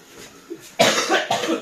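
Two harsh, close coughs in quick succession after a faint throat sound, loud and raspy with no talking.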